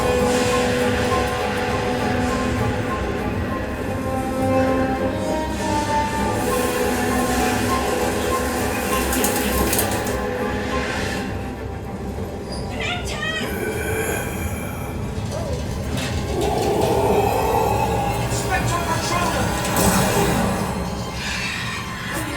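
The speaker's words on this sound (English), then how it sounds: "Train's heading on in." A train arrives at Universal Orlando, a continuous low rolling rumble with metallic squeals and rattles. Background park sounds run throughout, and scattered voices are heard.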